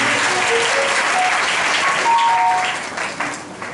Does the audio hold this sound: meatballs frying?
no